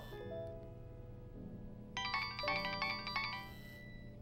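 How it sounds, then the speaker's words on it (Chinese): A mobile phone plays a melodic ringtone indoors. It starts with soft sustained tones, then a brighter repeating chime pattern comes in, fairly quiet and alone with no talk. "你电话。"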